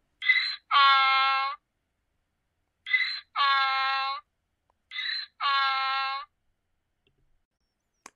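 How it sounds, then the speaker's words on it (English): A donkey brays three times in a row, each bray a short wheezy intake followed by a longer, loud honking exhale, with clear pauses between them and no other sound around. "That's the sound of a donkey."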